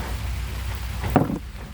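Rain falls steadily across a cucumber garden during harvest, a soft continuous wash of drops with one brief louder knock or rustle near the middle.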